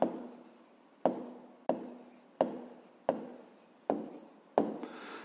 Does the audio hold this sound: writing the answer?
yes